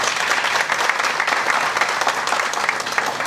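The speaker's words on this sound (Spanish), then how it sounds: "para quien pido un fuerte aplauso." Steady, loud applause from an audience at a gastronomic route event in Higüey, welcoming the mayor, continuous dense clapping throughout.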